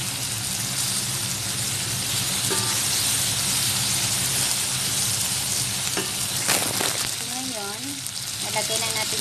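Tomato paste frying in a pan, giving a steady close sizzle that runs the whole time, with a few clinks of stirring near the end.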